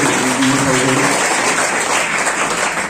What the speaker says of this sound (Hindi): जोरदार ताली से स्वागत किया।